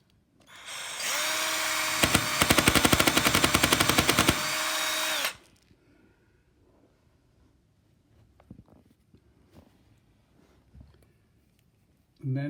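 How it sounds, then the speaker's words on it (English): A power drill bores a small hole for about four seconds, loud and close with a high whine and rapid rattling, followed by quieter handling clicks and taps. "I'm now going to put a small drill hole in there"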